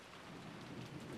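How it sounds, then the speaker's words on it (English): Rain beats on a window in the visual novel Umineko, a soft, steady hiss of drops that is faint and continuous with no other sound. "the harshly beating raindrops in the window were much more convincing"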